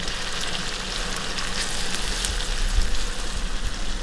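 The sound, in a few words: minced vegetables frying in hot butter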